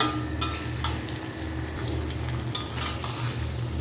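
Hilsa fish sautéing in oil in a pan, a steady close sizzle with occasional scraping bursts as the pieces are stirred and turned.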